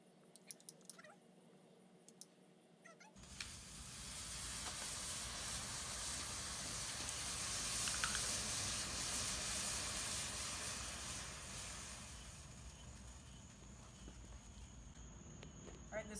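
A potassium nitrate and sugar mix with half a teaspoon of salt ignites after a few seconds of near-quiet, then burns with a loud, steady, broad hiss lasting over ten seconds before easing slightly.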